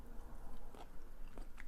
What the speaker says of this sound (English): let's try this whole cluster cooked golden oyster